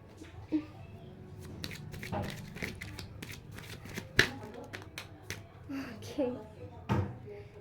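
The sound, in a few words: shuffling and drawing guidance cards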